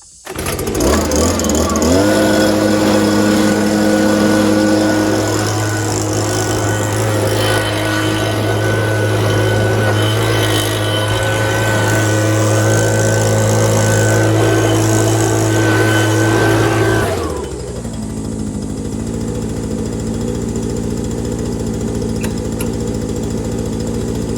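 A Mahindra 1626 tractor engine idles steadily and loudly for about seventeen seconds with a constant low drone, then shuts off, leaving a quieter lower hum.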